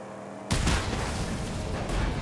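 A vehicle fuel tank blows up in Mad Max: after a brief quiet hum, a sudden loud blast erupts and rolls on as a sustained rumbling roar of fire and debris.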